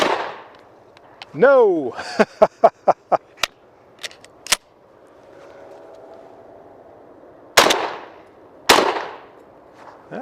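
A MAC 1014 shotgun fires Winchester 7.5 dove and quail loads outdoors, a quick burst of several sharp close bangs followed by a few more isolated shots, with a brief voice and the rising whir of the action cycling.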